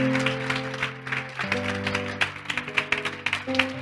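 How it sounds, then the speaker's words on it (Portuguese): Church congregation clapping in praise during a service, a loose, moderate scatter of claps over sustained organ or keyboard chords, with individual hand claps standing out toward the end. "vamos aplaudir mais o Senhor Jesus."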